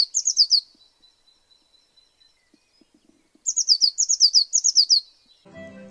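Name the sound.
bluebird song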